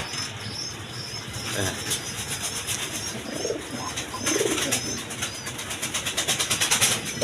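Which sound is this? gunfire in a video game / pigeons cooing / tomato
pigeons cooing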